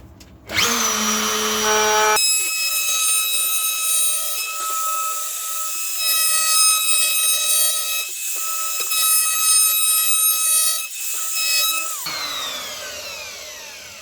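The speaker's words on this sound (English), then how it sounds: "sometimes the router cutter will take a big chip off the bit of wood going this way" A router cuts a curve into a piece of wood with a loud, high-pitched whine that starts abruptly, holds steady with slight bogging dips as the bit bites, then spins down at the end, with no talking.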